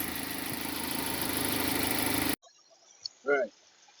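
A 2006 Nissan AD QG15 engine with electronic throttle idles with a steady, even drone for a couple of seconds, then cuts off abruptly, followed by a short voice.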